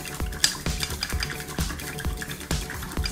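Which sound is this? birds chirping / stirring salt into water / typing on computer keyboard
stirring salt into water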